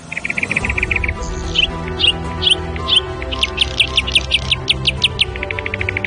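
A house sparrow chirps in quick, repeated bright notes, fairly close and clear, over a steady low background hum with no talking.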